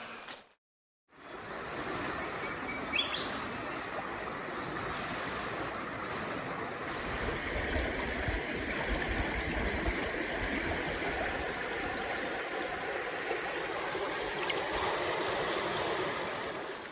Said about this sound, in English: We've found a mountain stream.